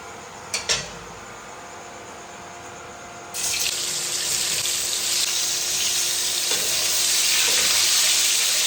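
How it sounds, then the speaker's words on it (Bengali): Cauliflower pieces go into hot oil. After a few seconds of near quiet with a couple of soft clicks, a loud, bright frying hiss starts and keeps going. "ফুলকপিগুলোকে আমি সুন্দরভাবে ভেজে নেব।"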